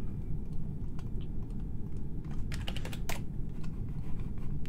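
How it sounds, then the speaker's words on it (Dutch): Computer keyboard typing in the Among Us chat: quick, close clicking keystrokes in irregular bursts over a steady, loud low background hum. "ik wou typen hier zodat hij vol was"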